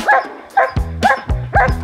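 A happy senior dog barks loudly and steadily while playing with a buoy in a cabin yard, giving about five sharp, close barks in a regular rhythm. No talk is heard.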